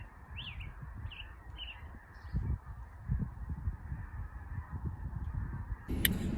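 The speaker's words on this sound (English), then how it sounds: "it's a lot of snow geese. There's more meeting up with them. They're landing" A flock of snow geese honks as the birds come in to land in Iowa countryside, with several quick calls early on over a low, uneven wind rumble, all faint and distant, with no talking.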